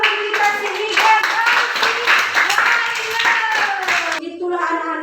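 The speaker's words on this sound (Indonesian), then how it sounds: "tepuk tangan buat teman kita sini, guys." Classmates clap for fellow students during an elementary school lesson on animal life cycles, a dense patter of hands mixed with children's voices and chatter, ending abruptly near the close.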